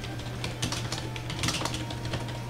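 Keys tapped on a computer keyboard while entering a name in the strategy game Europa Universalis IV, a quick irregular run of close, light clicks over a steady low hum.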